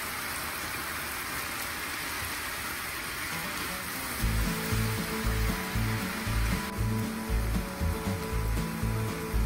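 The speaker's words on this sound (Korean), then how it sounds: "준비해둔 면발을 넣고 한 번 더 볶아줍니다" Hao Hao instant noodles and spinach stir-frying in a hot pan give a steady, close hiss of sizzling, with background music joining partway through.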